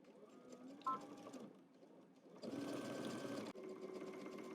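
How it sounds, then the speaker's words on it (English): A sewing machine stitching a seam runs in a steady, faint whir, stops briefly, then starts again with a louder, denser hum that carries on to the end. "let's head to the machine and we're going to stitch this down all the way around using 5/8 of an inch seam allowance"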